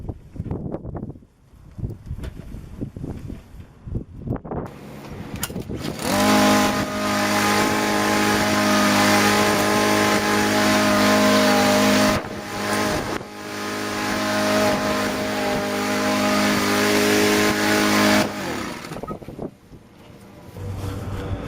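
A Harbor Freight Atlas 80V electric mower with its self-propel drive running, a steady loud whine and hum that starts after some handling noise, holds for about twelve seconds, briefly dips, then stops.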